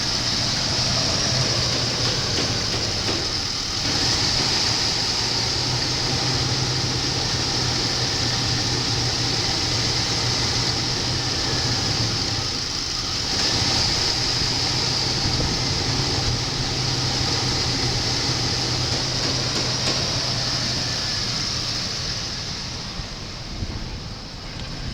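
A 1993 Chevrolet Caprice station wagon's 5.7 engine runs steadily at a wrecking yard, a continuous low droning hum with faint hiss above, unbroken for about twenty-five seconds.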